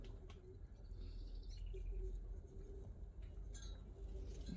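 Pigeons cooing softly at a distance outdoors in spring, a faint low hum of coos over steady background noise, with occasional small chirps.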